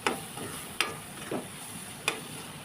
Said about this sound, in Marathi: आता हे मसाले छानपैकी तेलामध्ये परतून घ्यायचे